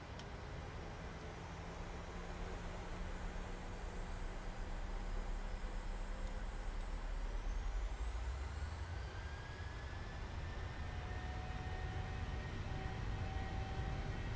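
Boeing 737-800 engines spooling up for takeoff in Flight Simulator 2020, a steady broadband roar with rising whine tones that builds gradually and holds loud throughout, heard from inside without talk.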